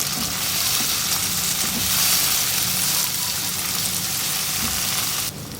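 Chopped tomato frying in a pan with garlic and curry leaves, a dense, steady sizzle close up with soft scraping of stirring, continuous and loud, cutting off abruptly at the end with no talking.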